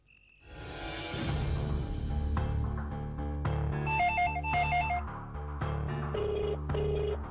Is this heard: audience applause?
no